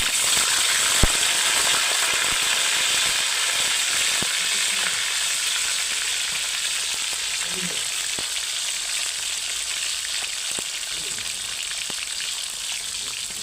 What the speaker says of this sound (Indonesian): Yang pertama goreng jengkol.